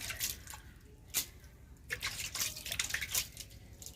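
A repaired cooking pot is rinsed and washed under running water, with scattered drips, splashes and trickles that come in uneven bursts at close range.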